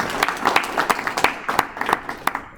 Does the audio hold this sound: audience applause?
yes